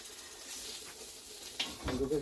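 Fish frying in a pan, a faint sizzle with soft stirring and a few brief clinks near the end, heard quietly at close range.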